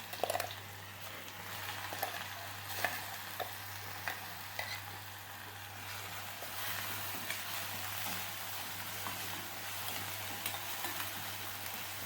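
Finely chopped onion frying in hot oil in a pan, a steady soft sizzle with faint crackles and a few stirring clicks, constant throughout with no talking.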